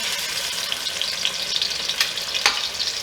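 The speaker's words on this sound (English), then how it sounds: "So, test the oil. Here's the sizzle." Oil sizzles and crackles steadily in a hot frying pan while cooking brown stew chicken, with a few sharper pops standing out.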